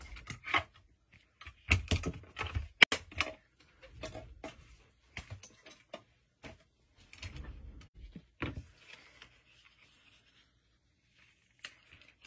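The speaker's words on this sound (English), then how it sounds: "now we'll just run this through our mini cut and emboss" Paper and cutting dies pass through a Stampin' Up! mini cut and emboss machine, giving scattered rubbing, thumping and sliding sounds at close range, with quiet gaps between them.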